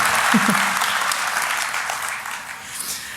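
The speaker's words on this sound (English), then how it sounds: "People are finally clapping for me" Listeners in a hall at the DEF CON 21 hacking conference clap for the presenter, a broad, loud burst of applause that slowly thins and fades, with a brief voice near the start.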